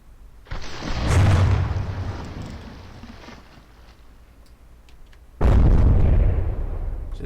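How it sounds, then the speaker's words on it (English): Two heavy explosions in From the Depths as a shell strikes beneath the bridge of the hospital ship HMHS Britannic, each a loud, sudden blast with a rumbling, decaying tail and no talk. "explosion right under the bridge."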